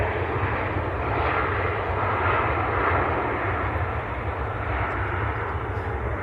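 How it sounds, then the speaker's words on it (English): A SunExpress airliner taxis at Manchester Airport, its engines producing a loud, steady broadband roar that holds without pause throughout. "the Sun Express is on the taxi,"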